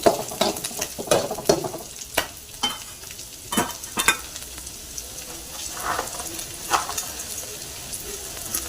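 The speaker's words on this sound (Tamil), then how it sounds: "இஞ்சி பூண்டு ஒரு வதக்கம் வதக்கிக்கணும்" Ginger and garlic sautéing with golden-browned onions in a pan, a steady crackling sizzle punctuated by repeated sharp scrapes and taps of a spoon, close and fairly loud, no talk.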